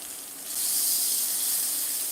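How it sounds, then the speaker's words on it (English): Steak edges sear in a hot pan with a steady sizzling hiss that rises suddenly in intensity after a brief quieter start and stays loud and constant. "Get them edges seared off a little bit."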